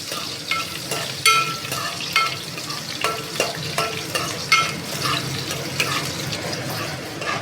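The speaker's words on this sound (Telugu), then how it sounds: "సో గాయస్ మిర్చి అయితే ఇలా వేగాలి" Green chillies fry in a pan for semiya upma, with a moderate sizzle broken by repeated spatula scrapes and stirring clatters at an uneven pace.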